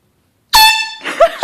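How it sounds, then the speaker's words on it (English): A sudden, loud air horn blast set off as a bedroom prank, one sharp sustained honk about half a second long that breaks off into a startled shout. "And I've got the air horn"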